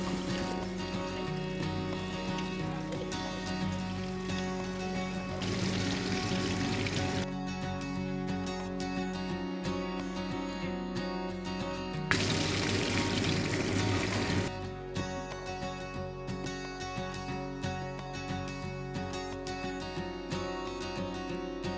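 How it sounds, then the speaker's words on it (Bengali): Hilsa fish frying in hot oil in a pan, a continuous crackling sizzle that swells louder in two stretches, with a steady hum running underneath. "এবার এক এক করে সব মাছ ভেজে নেব"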